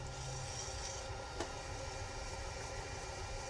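Steady soft rubbing and rasping, a continuous wet polishing scrub on a turned resin pen at close range, with one brief tap partway through.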